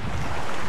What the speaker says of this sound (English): It is absolutely blowing a gale.